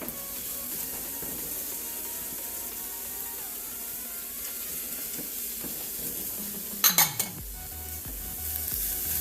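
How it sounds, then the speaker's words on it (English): Mushrooms sweat in a hot pan with a steady, soft sizzle that carries through the whole stretch, broken near the end by a quick clatter of a utensil against cookware. "Let that mushroom sweat a little bit."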